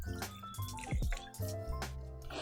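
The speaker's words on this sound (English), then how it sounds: "we're going to go in with a teaspoon of vanilla. Adding that straight to the bowl." A teaspoon of vanilla is poured into a mixing bowl of cinnamon roll wet ingredients, producing a short series of soft liquid drips and a brief trickle close by.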